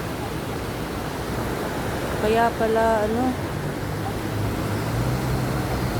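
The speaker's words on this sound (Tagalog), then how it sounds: "Nandito ako sa gilid ng ilog." A river flows past its cracked bank with a steady, broad rushing hiss that continues unbroken, and someone briefly speaks close by over it partway through.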